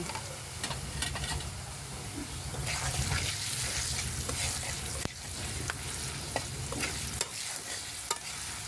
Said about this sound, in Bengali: আলুগুলো ভাজা ভাজা হয়ে গিয়েছে